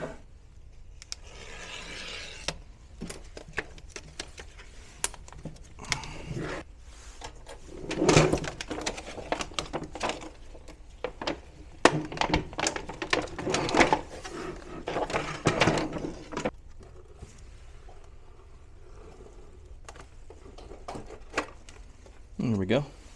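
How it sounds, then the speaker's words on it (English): Cutting open the casing of an EnjoyBot 12V 100Ah Group 24 LiFePO4 lithium battery, with scattered scraping, cracking and clunking noises at close range, mostly under a man's speech. "so we'll just cut it open some more"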